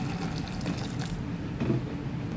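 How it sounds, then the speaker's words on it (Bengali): Hot water is poured steadily into a cooking pot of rice, lentil and vegetable khichuri on the stove. A continuous close splashing fill is heard alone. "এখন গরম পানি ঢেলে দিব।"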